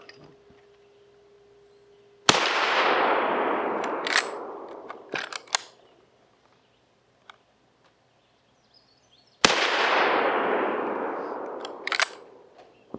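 Two loud, sharp rifle shots from original Winchester 1886 and 1887 lever-action guns fired outdoors, each a single blast with a long rolling echo, separated by several seconds of quiet with faint handling clicks.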